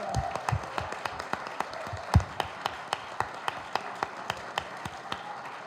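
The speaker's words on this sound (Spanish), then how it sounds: "Un aplauso" Audience at a book presentation during the Guadalajara book fair claps in a thin, scattered way: a handful of distinct, fairly quiet claps ticking along at an even pace, with one sharper clap standing out.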